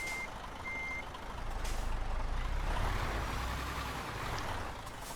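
A heavy truck in Euro Truck Simulator 2 reverses with steady electronic reversing beeps over a loud, continuous diesel engine rumble, with a brief hiss of air brakes.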